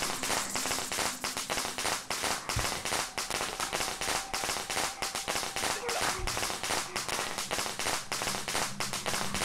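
Firecrackers thrown in the Shadow Corridor horror game crackle in a long rapid string of sharp pops, loud and dense across the whole stretch, with a voice briefly audible.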